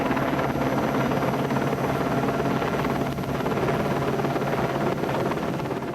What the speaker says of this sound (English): they'd sent a helicopter for him